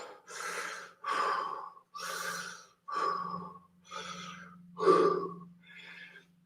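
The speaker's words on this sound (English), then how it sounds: "Nice deep breath." Deep breathing during a lunchtime HIIT workout: slow, heavy inhales and exhales, about seven breaths, close and loud, alone over a faint low hum.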